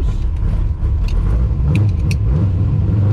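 Foxbody Mustang with a swapped 351 V8 and nitrous, its engine rumbling loud and close from inside the car as it cruises, a heavy continuous low drone without speech.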